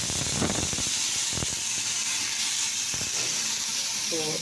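Chili and panch phoron five-spice sizzle in hot oil in a kadai, a steady, close frying hiss that runs throughout with a few brief sharper crackles.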